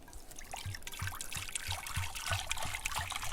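Cider being poured into a pot beside an outdoor fire, a faint, continuous liquid trickle with soft gurgles over a low background crackle and rumble, quiet and close.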